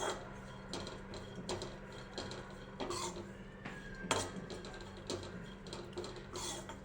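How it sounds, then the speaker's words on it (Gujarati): Dry grated homemade coconut being roasted in a pan, with repeated scraping and clinking of a spatula against the metal at an irregular rhythm, close and moderately loud, no talking. "તો કોપરાને આપણે શેકી લઈશું"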